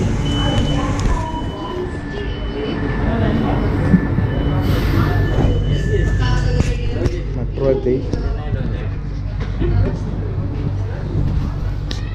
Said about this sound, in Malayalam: ആദ്യമായിട്ട് ചെന്നൈ സെൻട്രൽ മെട്രോയിൽ കയറിയിരിക്കുകയാണ്